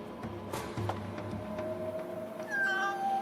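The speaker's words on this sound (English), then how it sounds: "she's chasing a cat to give it pets" A cat meows in a 1970s horror film scene, a short faint cry near the end over a murky, noisy soundtrack bed with low rumble.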